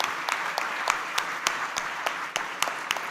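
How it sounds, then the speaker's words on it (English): Applause at a first-year inauguration ceremony at an engineering college, marking the opening of an IP clinic; steady clapping from a seated audience with sharper individual claps standing out, moderately loud throughout. "Everybody give a big round of applause as we inaugurate the IP Clinic."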